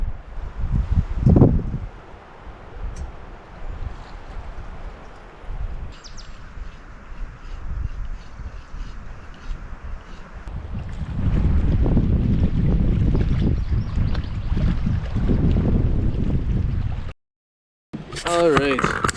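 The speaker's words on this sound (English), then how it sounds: "the wind's still picking up, kicking in and out" Wind gusting outdoors on a wilderness trip near water, roaring against the microphone in uneven surges that grow stronger partway through, with a voice speaking at times.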